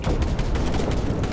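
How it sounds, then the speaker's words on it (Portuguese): Dense, loud bursts of gunfire crackle in rapid succession during a battle royale video game, a continuous fusillade of close shots with no pause. "Nossa, errei o tiro no cara duas vezes"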